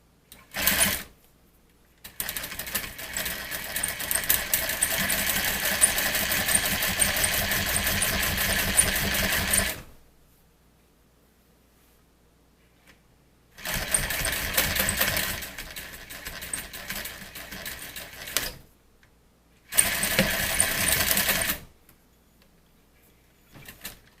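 A sewing machine stitches a box style swag in bursts: a short run, a long steady run of about eight seconds, then two more runs separated by near-silent pauses, close and fairly loud, with no talking.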